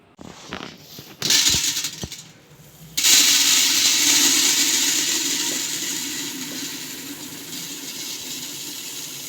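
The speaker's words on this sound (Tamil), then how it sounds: "இது எல்லாத்தையும் ஒன்றா சேர்த்து மிஷினில் கொண்டே அரைச்சிட்டு வர போகிறோம்" A grinding machine milling roasted dried chillies and coriander into Chettinad chilli powder: a few clanks and brief whirs, then the motor roars up loud and steady, slowly easing in level.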